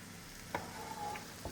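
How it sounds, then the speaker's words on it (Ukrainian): Dessert mixture fries in an open pan with a soft, steady sizzle, faint and close, punctuated by a few light scrapes of a utensil stirring it. "І зараз воно буде смажитися так, в відкритому вигляді."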